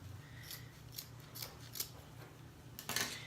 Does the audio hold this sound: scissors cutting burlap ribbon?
yes